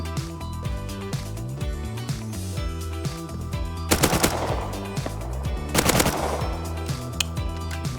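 Bursts of AK rifle fire from the survival video game Rust crack out twice over steady in-game music, a short rapid volley followed by a second, longer burst a couple of seconds later.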